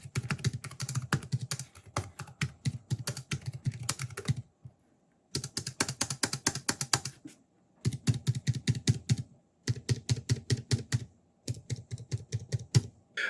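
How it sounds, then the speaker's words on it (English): Typing on a ProtoArc XK01 compact scissor-switch keyboard, with rapid, crisp key clicks in steady bursts separated by brief pauses, close and clear with no voices. "They are using a scissor-type switch, and keys still travel a good amount that still keeps it satisfying to type on."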